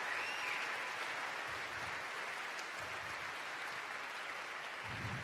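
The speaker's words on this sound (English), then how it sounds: "Give them a round of applause." Applause from an audience at a live talk event, a sustained, moderately distant wash of clapping that carries on evenly throughout.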